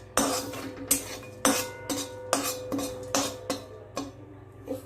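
Pistachios stirred in a wok while being lightly roasted for dry-fruit laddoos, giving a series of sharp metallic clinks and scrapes in regular strokes, fairly close and clear, with no talking.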